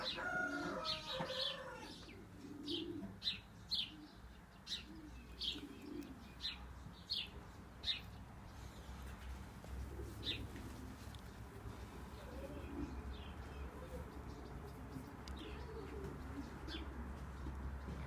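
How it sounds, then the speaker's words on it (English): Small birds chirp in scattered, bright repeated calls against a steady outdoor rumble, while lower cooing tones sound early on, with sparrows active nearby. "You can see the sparrows around here. They are chirping,"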